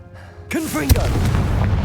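The Confringo blasting spell goes off in Hogwarts Legacy: a short whooshing sweep, then one sharp, loud explosive boom with a rumbling tail that fills the rest of the moment.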